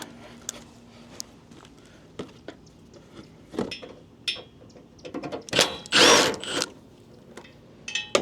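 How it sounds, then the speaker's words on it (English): Power tool pulling a bolt from a GMC Sierra headlight mount during an LED headlight install, heard as short mechanical whirs and ratcheting bursts amid clicks and handling noise, loudest near the end. "Pull your bolt out."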